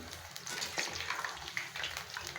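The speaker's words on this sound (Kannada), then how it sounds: "ವಡೆ ಚೆನ್ನಾಗಿ ಕೆಂಪಾಗೋವರೆಗೂ ಬೇಯಿಸ್ಬೇಕು" Vada deep-frying in hot oil in a large kadai, giving a steady, close sizzle with a constant bubbling hiss and no voice.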